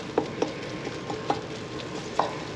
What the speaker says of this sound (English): I really need to let this pancetta cook.